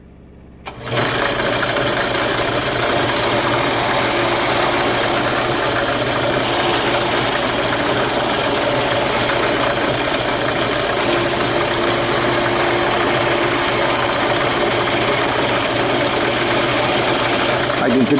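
A drum sander starts up with a sharp onset and then runs steadily, a dense, continuous whirring roar as a wooden toy template is shaped to its profile, loud and close without pause.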